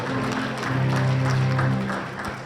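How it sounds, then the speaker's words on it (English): An audience at a CMS Grammar School alumni gathering in Houston claps warmly to welcome a pastor, a dense, steady patter of many hands that swells and holds for a couple of seconds. "please give a warm applause"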